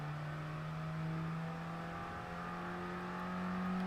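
A Fiat 500 engine in a Gran Turismo Sport race holds a steady, droning note with mild rises in pitch, loud and continuous throughout, with no talk over it.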